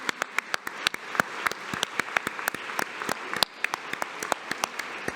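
Conference audience applauding the planning committee as they stand, steady clapping with sharp individual claps standing out above a continuous wash of many hands, sustained for several seconds.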